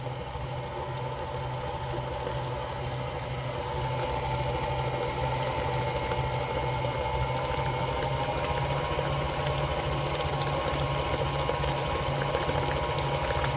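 Heavy cream whipping into butter in an electric mixer, buttermilk separating off, a steady motor whir and sloshing liquid churn running loud and continuous throughout, with no voices.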